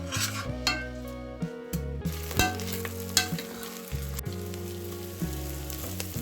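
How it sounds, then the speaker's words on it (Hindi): Vegetables frying in ghee in a pan, a continuous sizzle punctuated by repeated scraping and clinking of a spoon stirring against metal, close and rhythmic, with music playing underneath. "इसे अच्छे से फ्राई करो।"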